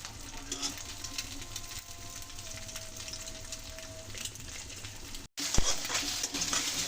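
Egg fried rice frying on high heat in a pan, a steady close sizzle and hiss with a brief cut near the end, followed by a louder burst of crackling, with no one talking.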